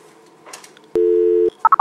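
A telephone gives a steady tone for about half a second, followed by a quick run of short dialing beeps as 118 is keyed in. The sound is clean and close, with no talking.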